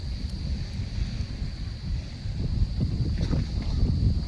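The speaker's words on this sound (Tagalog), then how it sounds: "Grabe, malakas nga yung hangin." Strong wind buffets and rumbles against the microphone in gusty low bursts at a kite-flying spot, with a faint steady high tone in the background.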